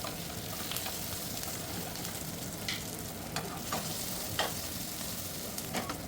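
Chicken, prawns and fish shallow frying in oil in a pan: a steady close sizzle throughout, broken by occasional louder pops and stirring sounds.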